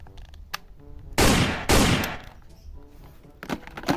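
A toy Bumblebee gun fires bursts of electronic shooting sound effects, two loud harsh blasts in the middle amid softer beeping tones, with no voices.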